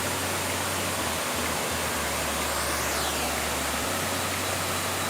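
At Khlong Yot Nam in Nakhon Si Thammarat, a forest waterfall pours with a constant broad hiss and roar, unbroken and unchanging throughout, with nobody speaking.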